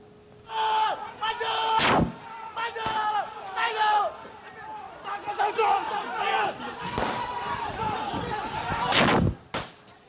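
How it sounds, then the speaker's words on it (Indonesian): Loud sharp warning gunshots crack out, one near two seconds and another near nine, over a chaotic crowd of shouting voices and scuffling as a group attacks police with stones. "Sejumlah tembakan peringatan dilepaskan saat sekelompok orang menyerang polisi dengan batu"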